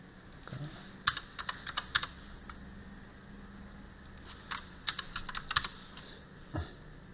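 Computer keyboard typing in short bursts of clicks and keystrokes during a copy-and-paste, close and fairly quiet, with pauses between clusters and no talk.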